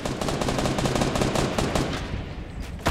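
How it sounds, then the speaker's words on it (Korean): Gunfire in the video game Fortnite, rapid bursts of automatic shots rattling in a quick, fairly loud, steady rhythm, thinning out before one sharp final burst. "위에서도 총소리가 계속 나고 있기 때문에"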